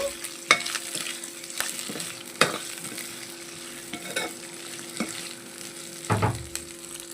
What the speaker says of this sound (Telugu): ముక్కలు కట్ చేసుకున్న ఈ తిల్లీని కూడా ఇందులోనే వేసేసుకొని చక్కగా ఫ్రై చేసేసుకోవాలి